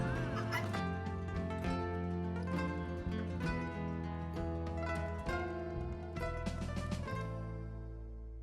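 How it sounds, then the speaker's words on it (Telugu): Guinea fowl calling at a zoo park near Kotappakonda, a dense, loud chorus of harsh, repeated cackling cries running continuously before tapering at the end. "గిన్నె కోళ్ళు"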